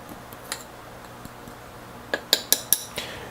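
A fork clinks briskly against a bowl while stirring a teaspoon of baking powder into dry ingredients for cannoli dough, with a few soft early taps and then a close run of sharp metallic ticks.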